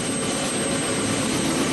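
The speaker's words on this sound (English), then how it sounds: "Yeah, we've got helicopter here," A helicopter flying while chasing a tornado gives a loud, steady rotor and engine roar that stays constant and close throughout, with no voices over it.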